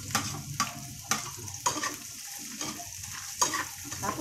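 Garlic and onion sauté in hot oil for bean sprouts, giving a dense continuous sizzle broken by about eight rhythmic spatula strokes scraping against the pan, close and fairly loud.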